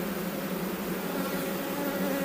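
Honey bees swarm and buzz around an open beehive in spring, a dense, continuous drone that stays close and steady throughout, with no voices.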